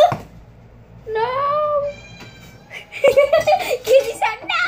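A house cat lets out one clear, drawn-out meow close by, followed by a voice chattering and giggling.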